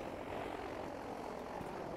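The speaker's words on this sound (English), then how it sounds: "That is probably the enemy plane." An enemy plane engine in the video game Battlefield V drones steadily with a rough propeller hum, holding at an even level throughout with no voices.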